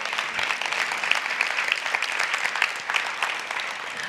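An audience applauds steadily at a school leadership event, a dense even patter of many hands clapping without pause, moderately loud and somewhat distant.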